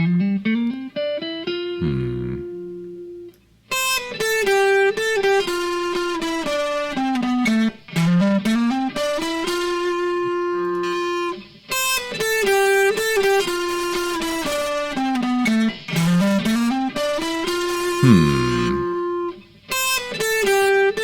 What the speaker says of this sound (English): A little distortion for the guitar, right?